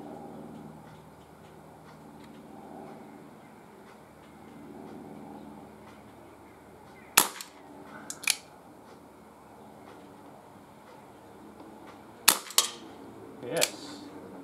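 A Webley 2.5 inch service revolver fired single action at a can outdoors, sharp reports in two spaced clusters with quiet gaps between, rising from a low hiss of background.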